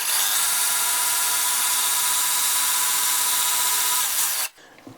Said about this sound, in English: So we're going to go ahead with the jigsaw and just notch these out real quick.